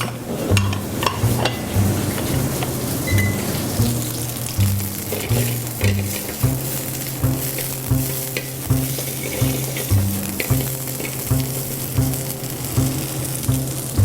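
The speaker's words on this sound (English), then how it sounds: "Hot pan, you throw in your cold oil, and you just lay it in there nice and neat." Food frying in cold oil poured into a hot pan in a restaurant kitchen at The Seasons Bistro, a steady loud sizzle with rhythmic stirring and scraping throughout.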